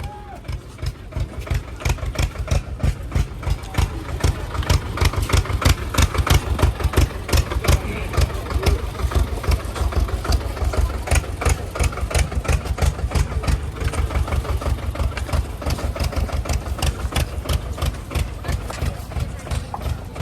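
A tractor engine carrying vegetables and supplies up the mountain track to Kedarnath runs steadily close by, its rapid, even chugging pulses continuing for the whole stretch while people talk over it.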